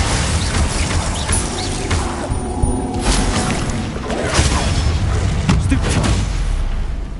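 A freezing spell in Hogwarts Legacy, the video game, comes through as dense, loud combat noise. Repeated booming, cracking bursts sit over a continuous rumbling bed of effects.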